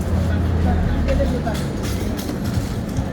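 Riding a city bus: a constant low engine rumble and road drone fill the cabin, with voices talking over the noise.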